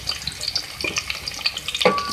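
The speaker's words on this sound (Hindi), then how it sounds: "इसको फ्राई करेंगे। इसके साथ ही मैं इसमें ऐड करूंगी जीरा 1 टीस्पून।" One teaspoon of cumin seeds frying in a pan with vegetables, a crackling sizzle with scattered pops and a sharp scrape of a spoon near the end, close and without speech.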